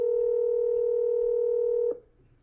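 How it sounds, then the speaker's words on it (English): A single steady telephone tone sounds loud and continuous for about two seconds after a number is dialed, then cuts off into quiet room noise. "I'm going to let it keep ringing."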